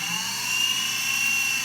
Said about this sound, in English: if it doesn't drill easily like this, it's not you or the Dremel, it's more than likely the drill bit just is dull